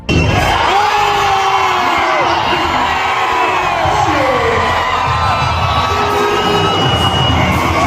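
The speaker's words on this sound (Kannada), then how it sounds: "ನಮ್ಮ ವಿರಾಟ್ ಕೊಹ್ಲಿ ಅವರ ಹೆಸರು ಬಂದಾಗ ಜನರು ಫುಲ್ ರೊಚ್ಗೆದ್ದಿದ್ರು" A packed cricket stadium crowd at an RCB vs CSK IPL match roars and whoops in a sustained wave of cheering and shouting, loud and close, with no clear single voice standing out.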